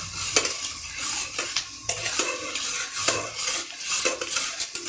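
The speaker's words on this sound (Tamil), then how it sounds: "பிரண்டையை நெய்யில் போட்டு வதக்கிறோம்" Pirandai (veld grape) pieces being sautéed in ghee, with a spoon scraping and clinking against the pan in repeated strokes over a light sizzle, close and clear, no voices.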